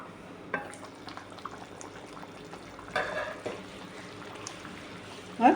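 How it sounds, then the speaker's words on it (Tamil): Steady bubbling and simmering of a pot of Tamil fish curry, low and continuous, with a few soft clinks and bumps near the end. "குழம்பு இந்த அளவு கொதிக்குது."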